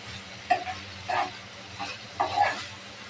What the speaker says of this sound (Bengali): শুটকিটা মশলার সাথে নাড়াচাড়া করে মিশিয়ে নেব।